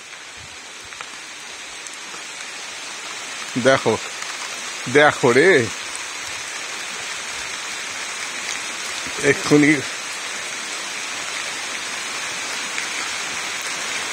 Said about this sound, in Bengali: ওরে বাবা রে, কি জোরে বৃষ্টি নামলো,